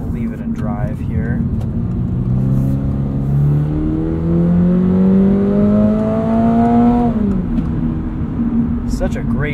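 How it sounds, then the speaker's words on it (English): Engine of a 2022 Toyota GR86 Premium with automatic transmission, loud steady drone that climbs in pitch, then drops sharply as it downshifts under hard braking, with continuous road and cabin noise. "we got a downshift there under hard braking."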